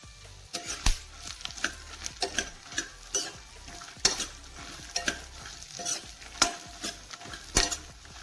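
Melon seeds and makhana dry-roasting in a pan, stirred with a spoon that knocks and scrapes in a regular rhythm, roughly once a second, over a soft crackle, near and moderately quiet.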